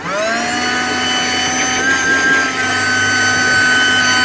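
A Wagan Tech wet and dry car vacuum runs continuously at close range, a loud, steady motor whine with a constant pitch and rushing airflow, alone without talk.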